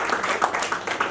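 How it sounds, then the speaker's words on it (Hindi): An audience applauds at a TV serial poster and promo launch event. A brief, dense wash of clapping from many hands is heard, moderately loud. "उसके लिए एक ताली तो बनती है।"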